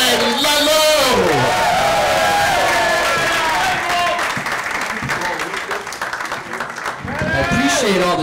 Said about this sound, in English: Clap it up for Ben Ludlow!